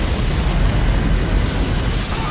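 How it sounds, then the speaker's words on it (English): Aftermath explosion in Elden Ring, a loud sustained roaring blast filling the short clip with dense rumbling low end and crackling texture, close and overwhelming, no distinct separate hits. "Ah, the aftermath explosion."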